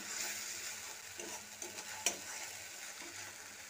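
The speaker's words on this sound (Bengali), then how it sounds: "পেঁয়াজ, আদা ও কাঁচা লঙ্কার পেস্টটা দিয়ে ভালো করে নেড়েচেড়ে মিশিয়ে নিচ্ছি" Onion, ginger and green chili paste frying in a pan for a winter cauliflower dish, a quiet steady sizzle with soft stirring scrapes and one brief clink of the utensil.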